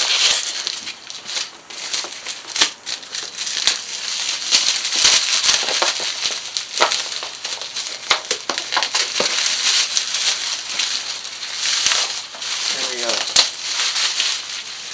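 Cardboard and plastic packaging for an MSI graphics card is torn open and crumpled by hand in a series of loud, close rips, crinkles and crunches, with a voice faintly present at times.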